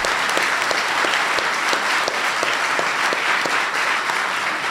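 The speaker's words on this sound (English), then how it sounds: "Please give them a big round of applause." A large audience at a 2009 presidential small-business event applauds senators with dense, loud, continuous clapping, a few sharper individual claps standing out within the steady crowd roar.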